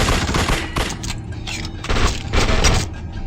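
Gunfire in the horror action game The Suffering: Ties That Bind, several loud overlapping bursts of shots with booming impacts, close and forceful, spread across a few seconds.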